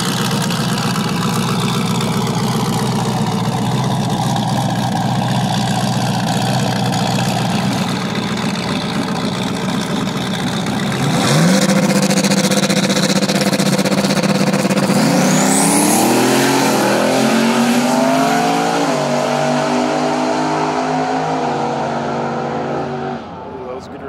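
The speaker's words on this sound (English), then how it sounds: "Burnouts, but this is the hard tire final right here." Drag car at a drag race final doing a burnout, engine held at a loud roaring rev, then rising sharply in a climbing scream before easing off, with crowd and announcer talk underneath.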